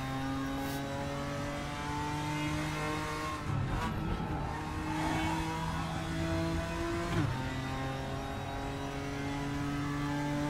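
A GTR4 race car in the RaceRoom sim racing game at Laguna Seca drones at high revs with clear gear shifts. Tires squeal through a corner, and the engine sound is loud and constant throughout.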